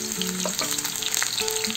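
Chopped onions fry in oil in a pan, a loud, close crackling sizzle with short bursts of popping and a few faint clinks, continuous throughout and with no talking.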